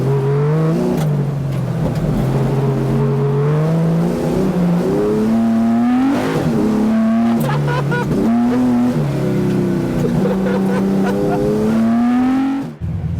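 Porsche 911-based MR 913 BB engine accelerating on a drive: a loud, continuous engine roar climbing through the gears, its pitch rising and dropping again at each shift, with a voice faintly underneath near the end.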